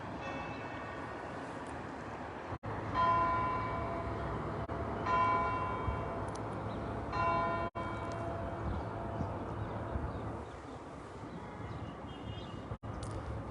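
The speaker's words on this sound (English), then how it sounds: "And here we have the bells" Church bells ring in Jerusalem to mark 6:45 at sunrise, struck in slow, evenly spaced peals that carry over a steady low hum of distant city and traffic noise.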